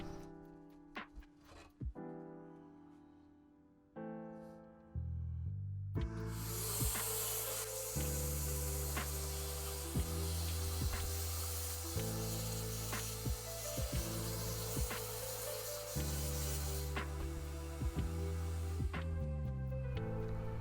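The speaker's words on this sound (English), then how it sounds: "I'm just going to use a little soap and water in a spray bottle to clean the glass" A spray bottle of soapy water hisses in several bursts, mixed with rubbing and wiping sounds as computer glass is cleaned, against a steady tonal hum in the background.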